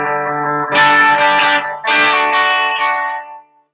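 Electric guitar played through high-gain distortion, saturated sustained chords and notes ringing out in two phrases, loud and close, then fading at the end.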